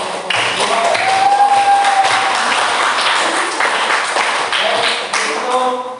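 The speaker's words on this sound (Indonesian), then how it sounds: "sekali lagi kita beri aplaus untuk kelompok 2" Students in a classroom applaud a presenting group with loud, continuous clapping that starts abruptly and holds for several seconds.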